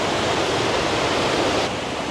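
Dense, steady roar of cascading water from waterfalls and streams flowing down steps in Leepa Valley in autumn, loud and close with no talking.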